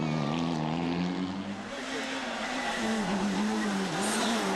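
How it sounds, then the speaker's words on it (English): A Mitsubishi rally car on a stage of the 2006 Rali Vinho da Madeira roars past, its loud engine note dipping and climbing as it shifts through gears at speed. "this is the Mitsubishi of Fernando Perez"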